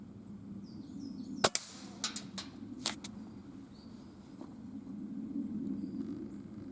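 An air rifle fires at a squirrel during pest control; one sharp, close crack followed by a few fainter clicks and knocks, then quiet outdoor ambience with no talk.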